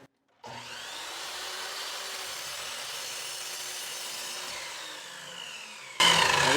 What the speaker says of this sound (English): And then I just want to cut this nasty end off